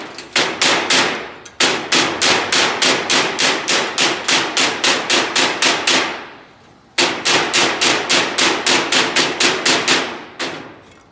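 Hammer striking metal in rapid, even bursts of a dozen or so sharp ringing blows each, a short pause between runs, loud and close in a workshop while working on a 1977 Honda CT70 with a Lifan 125 engine.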